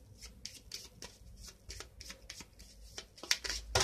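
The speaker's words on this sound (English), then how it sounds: "and a quick shuffle." Rapid riffling of playing cards from the board game Onirim being shuffled, several quick bursts of crisp fluttering snaps close up, with soft handling noises between.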